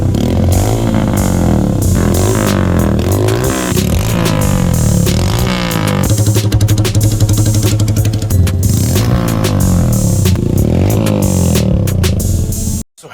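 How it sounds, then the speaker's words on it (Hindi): Hero Passion Pro BS6 2022 motorcycle with a modified stainless steel exhaust, idling with a steady throbbing rumble and occasional revs, loud and close, running continuously before cutting off abruptly at the end. "तो अब सुनते हैं गाइस एग्जॉस्ट का साउंड"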